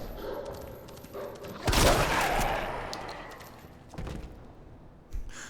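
Gunfire in Resident Evil 2, one loud close shot blast ringing out, followed by a couple of softer thuds and another sharp report near the end.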